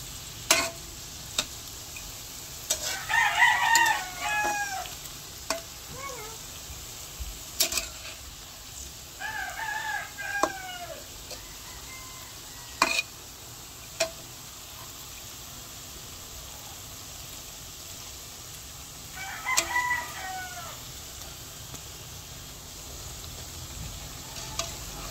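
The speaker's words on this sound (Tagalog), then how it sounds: "At aking pong hahaluin." Banana cue frying in oil while being stirred, a soft steady sizzle with occasional scraping clinks of the utensil, and a rooster crowing several times in the background.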